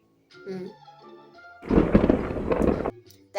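A lightning strike sound effect rumbles as a loud burst of thunder lasting over a second, preceded and followed by brief voices.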